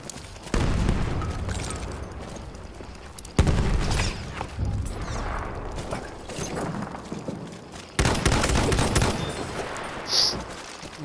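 Rifle fire with the Farquhar-Hill in a Battlefield 1 match on the Passchendaele map, loud repeated shots and booming blasts in several bursts, with a strong one near 3 seconds and another near 8 seconds, and a distant battle rumbling throughout.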